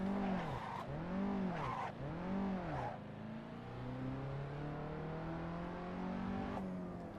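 A Peugeot 206 driven in Assetto Corsa during a track day revs in three quick rising-and-falling bursts between gear changes, then settles into a long steady engine drone, fairly loud and close, with no talking.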